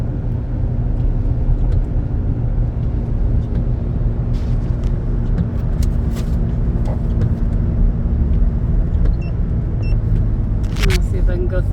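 A 2011 Nissan Frontier pickup climbs a hill, heard from inside the cab as a steady, loud low engine and road rumble, with a few faint clicks and ticks over it toward the end.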